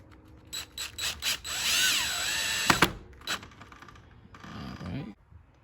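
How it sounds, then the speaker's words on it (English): Small screws for a Schlage Camelot aged bronze entry door handleset are driven in with a power drill in several short whirring bursts, close and fairly quiet, with a longer rising run and clicks between. "Put the 2 little screws in."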